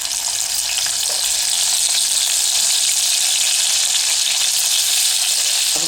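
Chopped garlic dropped into hot oil already holding mustard seeds and cumin for a dal tadka, giving a loud, steady, close sizzle that crackles without pause and with no voices.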